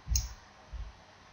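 Computer mouse clicked and dragged while editing a photo in Lightroom, giving two soft, close clicks about half a second apart over faint room hiss.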